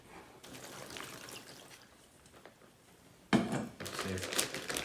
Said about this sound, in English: put in some of the brine.